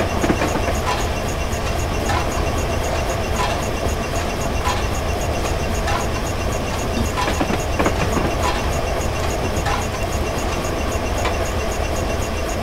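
The GWR King 6023 steam locomotive works hard under acceleration in Train Simulator, a loud, steady rhythmic chuffing and rumbling that continues throughout with regular beats.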